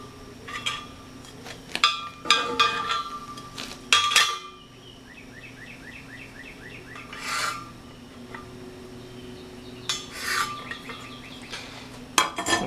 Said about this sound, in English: So just go ahead and go all the way around the pipe and scribe your lines.